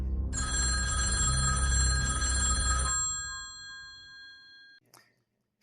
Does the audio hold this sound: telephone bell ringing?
yes